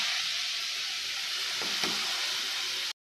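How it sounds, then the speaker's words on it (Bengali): Continuous hissing sizzle of chopped onions frying in hot oil, close and steady, with a brief soft bump near the middle before it cuts off. "এবার সেই তেলেতেই, ভাজা তেলেতেই আমি কুচানো পেঁয়াজ দিয়ে দেবো।"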